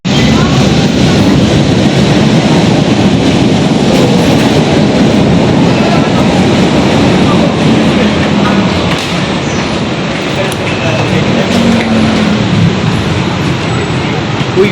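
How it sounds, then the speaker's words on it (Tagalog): A train runs past close by at a crowded stop near Blooming Street, its loud, continuous rumble and rolling clatter filling the whole stretch and easing only slightly toward the end. "Takbo yung train."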